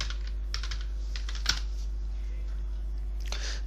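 Keystrokes on a computer keyboard while entering a logo search in Excel billing software, a few quiet scattered clicks with a sharper tap mid-way and a short burst near the end over low hum.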